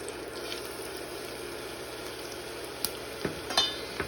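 Onions drop into a hot pan for Liberian fried okra, giving a steady, close sizzle that holds evenly throughout, with a few sharp clicks and knocks near the end.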